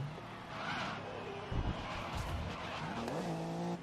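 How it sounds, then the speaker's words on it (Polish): Tires skid and squeal on a Nissan R32 GT-R race car in the Grid 2019 racing game, a loud sliding screech over the steady engine drone, with gear-shift pitch sweeps toward the end. "bez dodania gazu, on padł w poślizg, ale bez problemu sam wyszedł"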